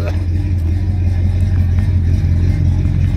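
A car engine idles roughly and loud nearby, a steady low rumble with slight clatter after sitting unused for 45 days, voices talking faintly over it.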